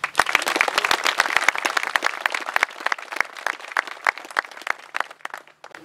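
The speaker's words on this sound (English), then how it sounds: "we need to give ourselves a round of applause" Audience at a Veterans Day event breaking into applause, a dense, lively burst of many hands clapping with sharp individual claps standing out, loud and close, gradually thinning toward the end.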